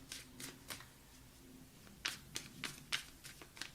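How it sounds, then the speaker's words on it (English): A tarot card deck is shuffled close up in quick riffling bursts, a few soft ones first, then sharper, crisper riffles in a rhythmic run, with no talking. "they're so fun to shuffle. I love this deck."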